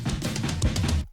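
Drum fill from the Too Easy drum kit for a trap metal initial drop: a quick, dense run of punchy hits lasting about a second before stopping abruptly.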